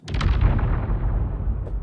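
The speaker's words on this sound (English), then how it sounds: "kind of a sci-fi whoosh. Yeah, really almost like a suck back in there." A sci-fi whoosh with a sharp burst at the start that swells, then sucks back and fades over nearly two seconds, loud and alone.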